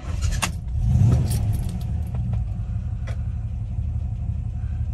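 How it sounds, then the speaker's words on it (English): A Rover P5B Coupe's 3.5 litre V8 cranks and fires, swelling into a loud rumble near the start before easing into a steady, close idle. "quick video of start up and idling on this P5b Coupe."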